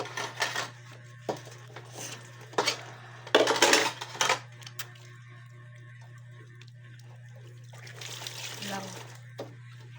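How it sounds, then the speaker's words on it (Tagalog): Dishes being washed in a home kitchen: clinks of plates and cutlery and bursts of running tap water come in uneven clusters, fairly close, with a steady hum underneath. "pagkatapos na natin guys na paghugas nating pinggan"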